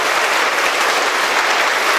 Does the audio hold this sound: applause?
yes